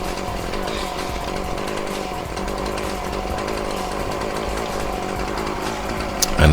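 Petrol strimmer with a replaced carburettor, running after its idle speed was adjusted: a loud, steady two-stroke engine buzz throughout, with no talk.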